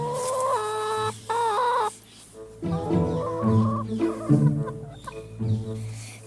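Farmyard chickens cluck in short bursts, a clear harmonic call up front, then a steady run of overlapping mid-pitched clucks continuing close by with no talk.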